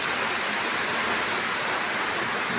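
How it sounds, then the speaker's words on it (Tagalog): Heavy rain pours down in a steady, dense hiss, loud and constant throughout, with no voices. "malakas na ulan dito."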